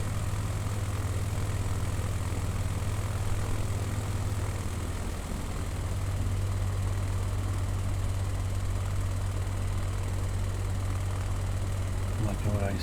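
Steady propeller aircraft engine drone from Microsoft Flight Simulator 2020 during a Nevada bush-trip descent, a constant low hum running unbroken throughout, with a faint rising sweep near the end.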